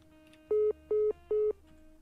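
A telephone gives three short, identical electronic beeps, evenly spaced and clear, with no other sound around them.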